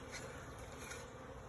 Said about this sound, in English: we have a swarm of bees here